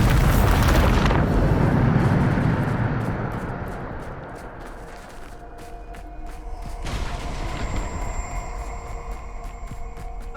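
The Bombarda spell detonates in Hogwarts Legacy with a loud, close blast and a rumbling roar that fades over several seconds into lingering game ambience and scattered small impacts.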